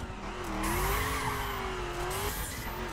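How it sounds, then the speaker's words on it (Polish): Wheelspin from a Dodge in The Crew racing game, a continuous loud tire squeal with rising pitch sweeps over steady engine roar, unbroken for the whole stretch with no talking. "Staram się unikać boksowania kół, które słychać gdzieś tam za mną."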